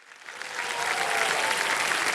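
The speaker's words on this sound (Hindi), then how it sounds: "तालियां बजती रहें इनके लिए" Studio audience on a children's quiz show bursts into dense, sustained applause that swells within the first half second and holds steady and loud throughout.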